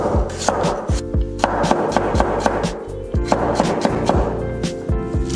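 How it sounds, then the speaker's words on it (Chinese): A knife cuts peeled potatoes into fine shreds on a board, making rapid, rhythmic chopping taps in quick bursts with brief pauses. The sound is close and fairly loud, with no talking. "土豆去皮切丝"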